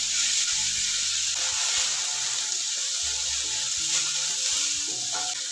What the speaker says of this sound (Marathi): कांदा तेलामध्ये किंचित लालसर रंगावर परतून घ्यायचा आहे